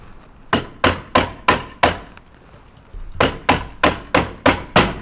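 A hammer taps a wooden panel of a handmade bluebird box into place: five sharp, close knocks, a short pause, then six more in an even rhythm, with no talking.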